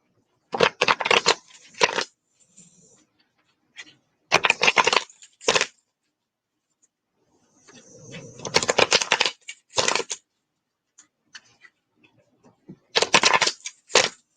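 Tarot cards shuffled by hand in several short bursts of riffling and sliding, close and fairly crisp, separated by quiet pauses with faint low murmuring in between.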